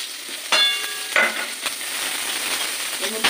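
Onions frying in a pan for biryani masala, a steady close sizzle with occasional stirring scrapes and clinks over a continuous hiss.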